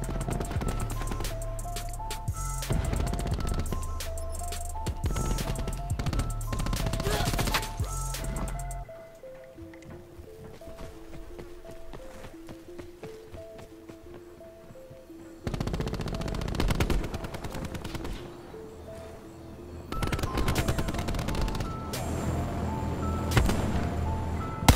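Rapid automatic gunfire from a shooter game's gun during a Hardpoint match, loud rattling bursts in the first stretch, a quieter pause with tonal game sounds, then more bursts of shots returning toward the end.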